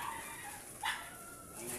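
A dog gives a single short bark partway through, moderately distant, over faint background voices and ambient noise.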